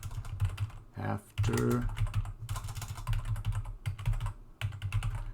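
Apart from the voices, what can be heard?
typing C++ code on computer keyboard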